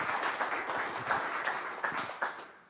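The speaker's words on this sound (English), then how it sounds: "Give a warm applause for Mr. Fu" Audience applause at a talk on medical device security, a dense, steady crowd clapping that holds evenly for a few seconds, then thins and fades out at the end.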